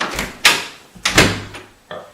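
A newly installed interior door is swung and shut several times, giving close wooden thumps and a latch click with short gaps between them.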